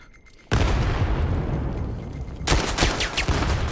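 Rapid gunfire from a video game shootout, a dense burst of loud booming shots that keeps going and sharpens into a harsher crackling volley near the end, close and without voices.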